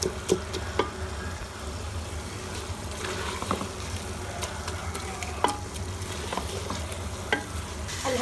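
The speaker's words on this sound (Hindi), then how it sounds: "शलजमों को हम अब इस तरह सारों को मैश कर लेंगे।" Cooked turnips are mashed in a pan with chicken and spinach, a soft frying sizzle running underneath while a utensil presses and scrapes in irregular close taps and knocks.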